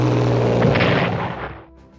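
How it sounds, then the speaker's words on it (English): Artillery bombardment striking an enemy supply area in the WW2 Pacific strategy game Strategic Command WW2: a loud, dense rumbling blast that swells, holds, then tapers off over about two seconds. "I'm going to bombard also Nanchang's supply area"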